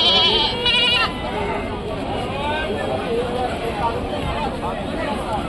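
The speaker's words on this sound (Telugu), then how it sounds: "అన్న మనయేనా ఈ మేకలు?" Goats bleating amid a busy livestock market at Rajarampalli, several sharp calls early on, then a steady crowd hubbub with people talking throughout.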